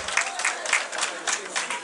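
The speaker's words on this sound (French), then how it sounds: "On applaudit pour ça." A crowd applauds steadily at a festival in London, many hands clapping at once in a dense, even patter that holds for a couple of seconds.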